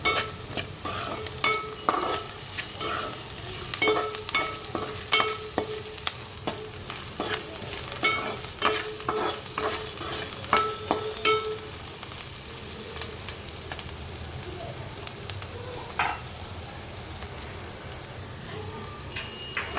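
Onions sautéing with a little salt in a pan while a paneer masala curry is being made, with a steady sizzle broken by repeated scraping and stirring clicks from a utensil, close and without speech.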